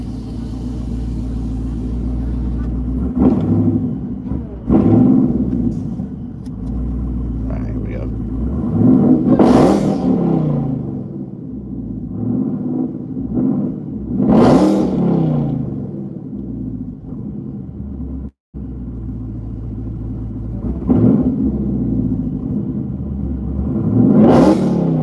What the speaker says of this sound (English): I'll start it up, but I don't know if you're going to be able to hear me rev it inside the car.